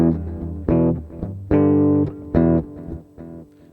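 Guitar run through a delay effect in Ableton, a series of separate picked notes and chords in a loose rhythm, bright and upfront with short echoing tails between them.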